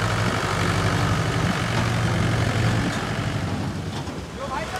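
A Mahindra 575 tractor engine runs in a field with a steady low diesel rumble, loud and close throughout, easing slightly toward the end.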